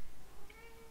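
A house cat meows once, brief and faint, heard close but low in level against a quiet indoor background.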